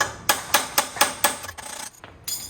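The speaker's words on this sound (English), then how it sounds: "Go back to hammering." Five sharp metallic hammer strikes on a Ford 8N tractor land at a steady rhythm, close and loud, followed by a few lighter clanks and taps.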